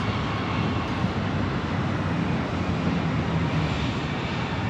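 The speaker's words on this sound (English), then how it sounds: "Northwest 757 to 200. This is flight 802 taking off to Detroit." A Northwest Boeing 757-200 takes off at Los Angeles International Airport, a loud continuous broadband engine roar that stays steady throughout with no talk.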